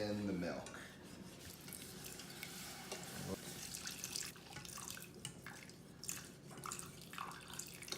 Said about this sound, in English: So now we slowly add in the milk.